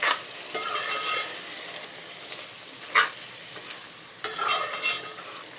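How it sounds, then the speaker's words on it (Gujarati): Cluster beans get stirred into a pomfret curry in a pan, with a spoon scraping in short bursts over a soft, steady sizzle close by. "હવે ગવારને છે ને મિક્સ કરી નાખવાનું છે"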